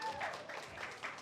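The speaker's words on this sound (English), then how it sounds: "give a warm round of applause for Shabazz D.O.G." Warm applause from a crowd welcoming a speaker onto a stage, soft and somewhat distant, a short steady patter of clapping with a faint voice at the start.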